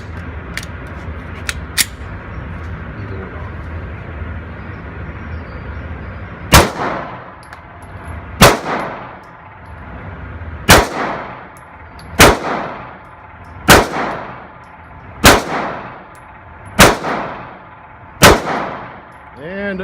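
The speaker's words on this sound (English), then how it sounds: "Run another mag through that, Aaron." A Springfield Range Officer 9mm compact pistol firing outdoors, a few quick shots early and then eight loud cracks spaced about two seconds apart, each one ringing out and decaying, with no talking.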